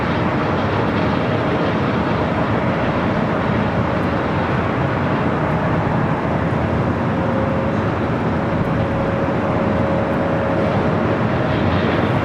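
A jet airliner roars steadily at LAX airport, a loud, continuous engine rumble with a faint whine running through it, heard alone.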